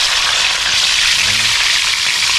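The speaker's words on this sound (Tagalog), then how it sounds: "Start na tayo mag-prito. Unahin natin itong banak." Large banak fish frying in a crowded pan, a steady loud sizzle and crackle of hot oil running throughout with no talk.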